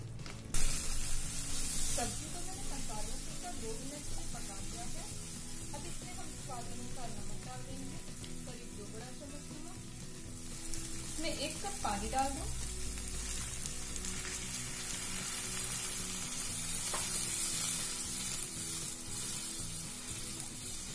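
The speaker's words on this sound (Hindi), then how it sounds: "सब्जी को हम मसाले के साथ कुछ दो तीन मिनट के लिए भून लेंगे" Vegetables such as cauliflower and peas frying with spices in oil for vegetable biryani, a steady sizzle running throughout with occasional stirring scrapes, close and moderately loud, no talking.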